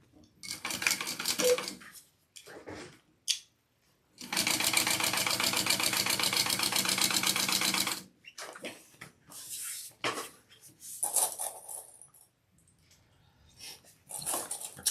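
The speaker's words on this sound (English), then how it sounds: "So I am just going to baste my pocket." A sewing machine basts a pocket on a handbag, running in a loud steady whir for several seconds between shorter stop-start bursts and small clatters of handling.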